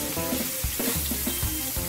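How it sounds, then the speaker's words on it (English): Ground beef hamburger fries in a pan with onions, jalapeno and green peppers and seasoning, giving a steady close sizzle with a few soft stirring scrapes. "See my hamburger cooking by itself?"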